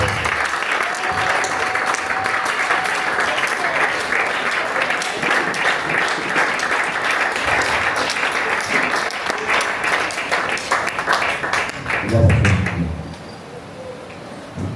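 A church congregation in Cameroon applauds to acclaim God, sustained dense clapping from a large crowd heard close for about twelve seconds, with a few voices mixed in, before it tapers off and fades.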